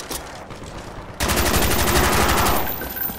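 Sustained rapid automatic fire from an RPK machine gun in Call of Duty Black Ops Zombies on Kino der Toten. A dense, loud burst starts abruptly partway through, runs for over a second, then tails off.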